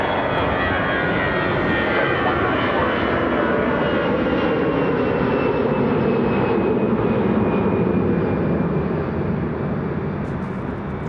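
Airliner on final ILS approach to land at Toronto Pearson airport, a steady loud engine roar with a slowly falling whine, sustained throughout and with no talking.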